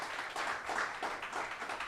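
A church congregation applauding together, a steady wash of many hands clapping for about two seconds with rhythmic swells, moderately loud and with no voices over it.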